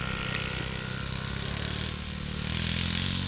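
Dirt bikes ride a larger track, a steady buzzing two-stroke engine drone that holds loud and close, briefly dipping before climbing again, with no talk.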